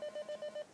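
Phone ringtone playing in short, evenly spaced electronic beeps, about five pulses in under a second, fairly faint and heard alone in a quiet room in an Italian comedy film.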